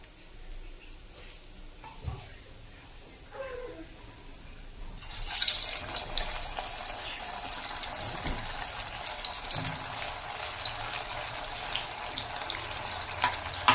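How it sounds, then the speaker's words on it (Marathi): Sabudana vadas dropped into hot oil for deep-frying: quiet kitchen sounds at first, then a sudden loud, dense bubbling sizzle that continues steadily to the end. "आता आपलं तेल गरम झालं आहे आपण वडे तया तळून घेऊया"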